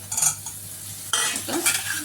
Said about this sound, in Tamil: இது எல்லா காயும் மிக்ஸ் ஆகிற அளவுக்கு மிக்ஸ் பண்ணி